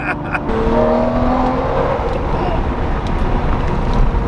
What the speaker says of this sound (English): This is a Lamborghini Murcielago, bro.